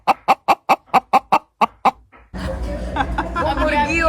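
A person's voice imitating a hen's clucking, about nine short rhythmic clucks in quick succession, followed by noisy background chatter.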